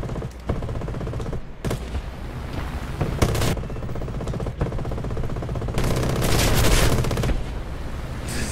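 Aircraft machine guns firing in War Thunder flight sim, with LA-7 fighters nearby: long, dense rattling bursts broken by short gaps, loud and close over steady engine drone, with a heavier burst near the end.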